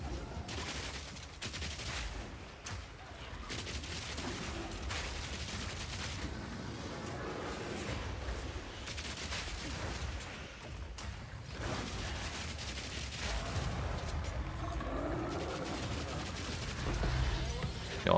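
Grenades go off repeatedly in the action game Path of Exile 2, a dense and continuous barrage of blasts and crackling impacts that runs for the whole stretch alongside other combat noise.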